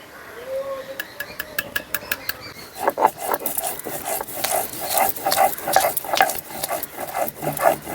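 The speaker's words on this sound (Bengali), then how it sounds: "আলুটা ভাজা হোক ততক্ষণ আমি মশলাগুলো বেটে নিচ্ছি।" Soaked poppy seeds, ginger and green chili being ground into paste, a steady gritty scraping and rubbing with repeated strokes that grows louder and busier after a few quiet seconds, close and continuous.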